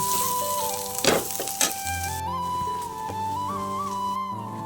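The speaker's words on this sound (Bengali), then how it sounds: "দিয়ে আমি খুব ভালোভাবে নেড়ে চেড়ে আবারও ভেজে নেব।" Fish roll masala with coriander-cumin powder and Kashmiri chili powder fries and is stirred in a pan, giving a sizzle with a few sharp scraping bursts under a steady tonal background.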